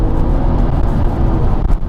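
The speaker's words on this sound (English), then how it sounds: "that was to the red line on the rev counter, and it wanted to go even more" Cosworth-tuned engine of a rare, low-mileage Audi RS4 B5 Clubsport revving hard toward the red line, a loud, sustained, dense engine roar held steady close to the microphone.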